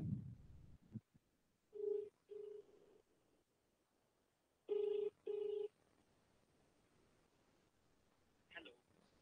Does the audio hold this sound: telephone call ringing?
yes